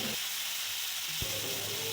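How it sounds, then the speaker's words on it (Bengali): Shrimp frying lightly in oil in a wok, a soft, steady sizzle that holds across the whole moment, with a brief thicker burst of crackle partway through. "চিংড়ি মাছটা হালকা ভেজে নিচ্ছি"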